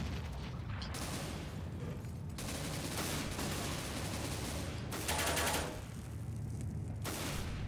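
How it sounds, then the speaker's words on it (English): Dense, continuous automatic gunfire from the video game Counter-Strike: Global Offensive, with sustained bursts and a few brief pauses, loud and close throughout. "he's gonna just start shooting and shooting and shooting"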